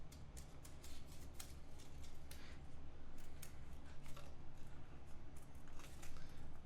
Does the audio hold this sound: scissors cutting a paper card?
yes